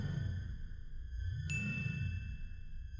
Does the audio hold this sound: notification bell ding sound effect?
yes